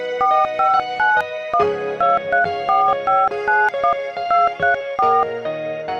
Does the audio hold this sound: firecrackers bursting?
no